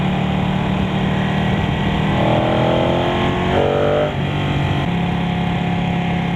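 A 2015 Ducati 899 Panigale on a test ride, its engine droning close and steady, with pitch sweeping upward through the middle as the throttle opens, then settling back to a continuous hum.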